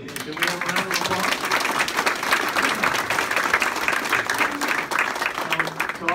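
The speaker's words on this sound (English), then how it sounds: "Can we have a round of applause?" An audience at the 2019 Poplar Bluff Mayor's Breakfast gives a loud, sustained round of applause for Mayor Robert Smith, the city's first black mayor, with voices and cheers mixed into the clapping.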